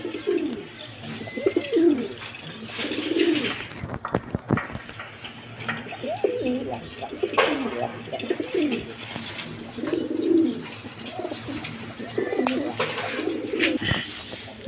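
A pair of tiger pigeons coo in repeated soft, throaty phrases at close range, with brief clicks and handling noise in between and a steady low background hum.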